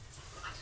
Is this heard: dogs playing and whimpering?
yes